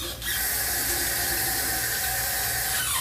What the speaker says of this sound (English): now we have to add water to that bag